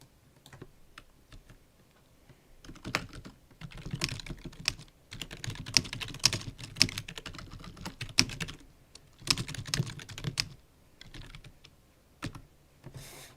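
Loud typing on a computer keyboard, with fast irregular bursts of clicking keystrokes and short pauses between them, close up and alone during live tornado warning coverage.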